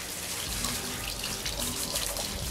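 Shower water runs steadily and close by in an outdoor urban shower in Billund, a continuous broadband hiss with no talk over it.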